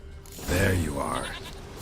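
A goat bleats in the video game The Witcher 3, one drawn-out, wavering bleat heard close up over steady ambient game sound.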